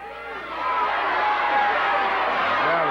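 A wrestling arena crowd at a 1994 USWA television event in Evansville swells in a loud, steady roar of shouting and chatter. It rises sharply after the first half second and holds at that level.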